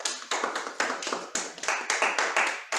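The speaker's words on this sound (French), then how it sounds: "Vos applaudissements." A club meeting audience claps in a quick run of sharp, overlapping bursts that repeat steadily for a few seconds, fairly faint and with no talking over it.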